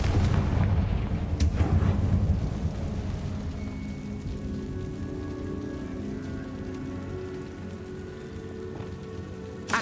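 Fiery Confringo spell blasts in Hogwarts Legacy, a heavy burst of crackling explosion at the start that settles into a long rumbling, hissing rain-like roar with no talking.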